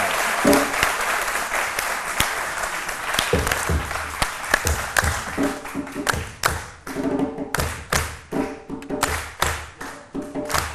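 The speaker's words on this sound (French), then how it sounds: "on applaudit très fort" Loud audience applause in a French studio broadcast, sharp individual claps and thumps punctuating a dense, uneven wave of clapping that swells and dips throughout.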